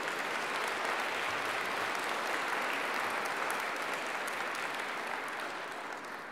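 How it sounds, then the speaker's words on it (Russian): Sustained applause from a large audience at a Mozart Requiem festival concert in Saint Petersburg, steady and dense throughout, tapering slightly at the end. "Ваши аплодисменты."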